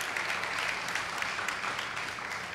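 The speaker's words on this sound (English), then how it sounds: "Give them a round of applause." An audience at a public talk breaks into steady applause, a dense, even wash of many hands clapping that fills the room and continues throughout without any voices over it.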